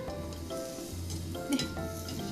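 Sweet potato pieces sizzle steadily as they pan-fry in oil for a no-deep-fry candied sweet potato dish, with a faint stir or scrape partway through and no talking.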